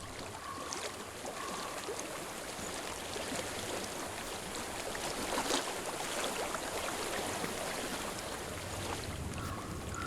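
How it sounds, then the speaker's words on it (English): Water flows steadily in the video game Hellblade: Senua's Sacrifice, a constant rushing wash that stays even throughout with no voices. "I hear water."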